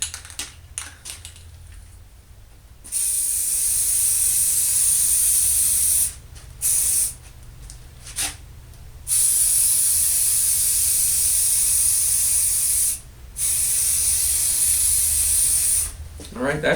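Spray can coating a red oak longbow for a third time, giving several long loud hissing bursts separated by short pauses, with quiet shop sounds in the gaps.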